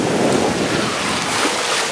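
Steady wind and breaking waves buffet a sailboat crossing the North Atlantic after an afternoon gale with gusts to 25 knots, a continuous loud roar of wind noise and surf with no voices.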